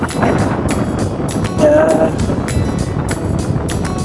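Strong gusty seaside wind in Zambales buffets the microphone with a constant roar and rumble, and brief thumps and a faint whistling tone come through the noise.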